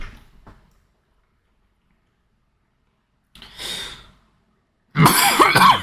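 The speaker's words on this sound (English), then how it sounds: "Once again, pardon the coughing." A person coughs in three separate bursts: a faint short cough, a moderate one after a long silence, then a loud, harsh fit at the end, close and with no talk.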